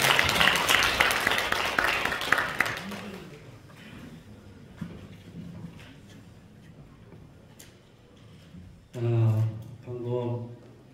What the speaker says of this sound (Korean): 자, 박수 한번 크게 부탁드리겠습니다.